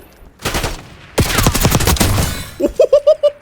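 Gunfire from a Call of Duty game gun with strong kick and blue effects, loud close bursts of rapid shots followed by a short run of evenly spaced distinct reports.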